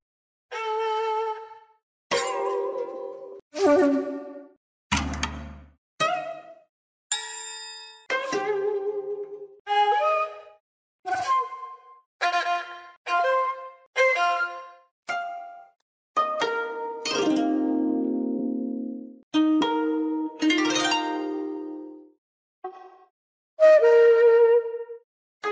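A series of short chimes, dings and tinkling synthetic tones from the Windows 7 Calligraphy sound scheme, each separated by brief silences, played one after another without any speech.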